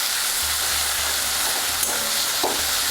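Spice paste for Bengali mutton curry sizzling in a pan while being stirred, a loud, close, continuous frying hiss with a low rumble underneath and a couple of scraping strokes, no voices.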